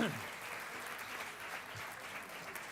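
A crowd at a conference applauds steadily, a dense wash of clapping that holds at an even level throughout, with a brief voice at the very start.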